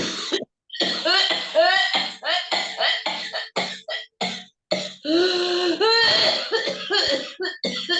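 Heavy, close coughing and throat clearing from a person during a spiritual cleansing session, coming in repeated loud bursts with brief pauses throughout.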